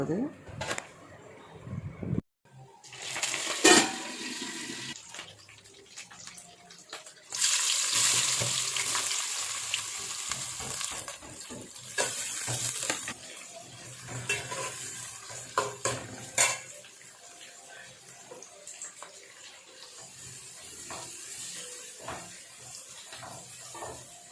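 Onion, curry leaves and ginger-garlic paste roast in a pan for chicken stock biryani, giving a steady sizzle with stirring scrapes and occasional utensil clatter while a person talks over it.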